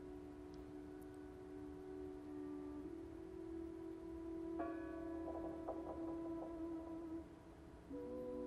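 A distant bell tolls in the video game Draugen, a low sustained ringing tone that hangs steadily in a quiet outdoor scene, with a few fainter chiming notes joining midway.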